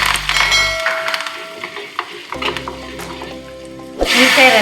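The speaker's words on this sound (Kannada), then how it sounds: "ಇದಕ್ಕೆ 1 ಸ್ಪೂನ್ ಎಣ್ಣೆ ಹಾಕಿ, ಸಾಸಿವೆ 1 ಸ್ಪೂನು" Mustard seeds and curry leaves crackle in hot oil in a pan, brief sharp sizzling bursts and pops that fade midway and swell again loudly near the end, close and without talk.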